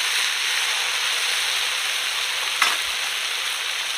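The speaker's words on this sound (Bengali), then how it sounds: "ভালো করে আস্তে আস্তে কষাতে হবে, কষিয়ে কষিয়ে রান্না করতে হবে।" Chicken curry masala being slowly stir-fried in a pan, village-style country chicken curry: a steady, close frying sizzle throughout, with one brief scrape or stir near the end and no talk.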